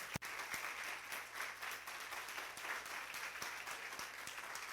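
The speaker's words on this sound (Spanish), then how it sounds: "Dele un fuerte aplauso a la gente que mira el programa también por la televisión." Church congregation at Iglesia Betania in Huauchinango, Puebla applauding, a faint, distant, steady wash of clapping with scattered sharper claps.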